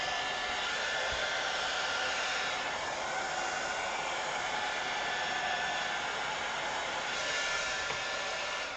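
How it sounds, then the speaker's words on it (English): A heat gun blows hot air in a steady, loud, broadband whoosh that holds constant for the whole stretch, close to the listener, with no talk over it. "Heat gun's fine."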